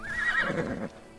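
A horse in Assassin's Creed Odyssey gives a single close, loud whinny that falls in pitch over about a second, with faint hoof clops beneath.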